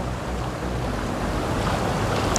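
Haluvagilu waterfall near Hassan, Karnataka roars with loud, constant rushing water, a broad unbroken wash of noise with some wind buffeting the microphone and no talking.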